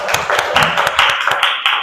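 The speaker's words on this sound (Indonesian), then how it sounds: "tepuk tangan dulu untuk Lala" A classroom applauds a student, a short burst of brisk, dense clapping from a group of hands, fairly loud and steady, with no talk.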